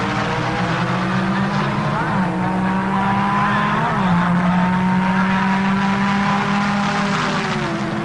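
A drag racing car at the 1978 NHRA Sportsnationals runs hard down the strip with a sustained loud engine roar. The pitch steps once partway through, as if from a gear change.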